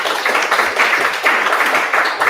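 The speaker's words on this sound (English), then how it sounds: "Once again, a thunderous round of applause." Audience applause for a speaker being introduced at a tech meetup event, a steady wash of many hands clapping at moderate loudness, continuing without pause.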